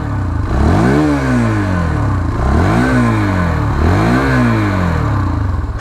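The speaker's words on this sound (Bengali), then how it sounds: "এই হলো গাড়ির সাউন্ড কোয়ালিটি।" A Hero Xtreme 160R motorcycle engine revved up three times in a row, each rise climbing and falling back to idle, loud and close with a clattering mechanical edge.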